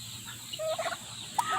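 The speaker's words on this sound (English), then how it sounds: "I got turkeys following Jax." Turkeys on a homestead gobble faintly at a distance amid outdoor background noise, with a few short warbling calls.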